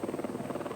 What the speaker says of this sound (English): very heavy accident by Roland Ratzenberger, who we see maneuvered into the helicopter to be taken away to the Bologna hospital